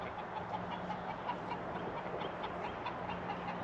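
Chickens cluck continuously in a garden, a soft busy murmur of many birds at middle distance over a steady low background hum.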